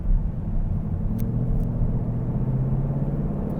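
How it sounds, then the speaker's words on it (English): A 2022 Ford Mustang GT rolls along slowly, its V8 giving a steady low rumble and road hum from the cabin, with a couple of faint clicks in the background. "going slow in a Mustang GT"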